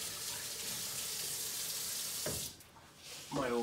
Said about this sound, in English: I'm gonna give my hands a little rinse here.